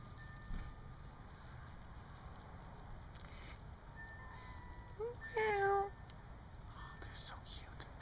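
Kitten at a house gives a brief series of short high meows near 5–6 seconds, fairly close but soft, over a steady low background hum with no clear talk.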